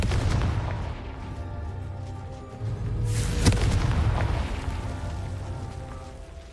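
A Confringo fire spell explodes in Hogwarts Legacy with a loud, deep boom over a rumbling, crackling game soundscape, peaking at one sharp blast midway.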